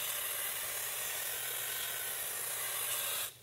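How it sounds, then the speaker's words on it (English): A can of compressed air held upside down sprays refrigerant in one steady, close hiss for about three seconds, then cuts off abruptly. "You guys can find the compressed air if you turn it upside down."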